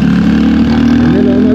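A Royal Enfield Hunter 350 motorcycle engine runs steadily while riding in third gear, a loud, close, continuous mid-pitched drone that rises slightly in pitch toward the end.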